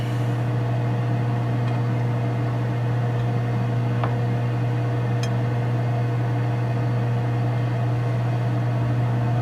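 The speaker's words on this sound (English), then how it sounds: "Put it in the microwave for 1:44." A microwave oven hums steadily while heating a ramen noodle, egg and bacon mixture, a constant low drone with a faint beep or two and no talk.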